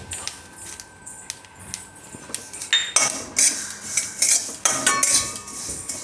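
A metal spoon scrapes and clinks against a pan as garlic and curry leaves go into roasting sesame seeds, irregular close clatter that grows into busier stirring and sizzling crackle toward the end.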